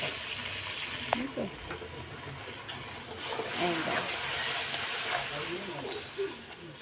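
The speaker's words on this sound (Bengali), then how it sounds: "পেস্ট মশলাগুলো দিয়ে দিলাম এটার মধ্যে রসুন আদা টমেটো কাঁচা লঙ্কা পেঁয়াজ সব দেওয়া তো এখন আমি এগুলো আগে কষিয়ে নেব" Spice paste of garlic, ginger, tomato, green chilli and onion frying in a pan, a steady soft sizzle and hiss with occasional stirring clinks, close and continuous.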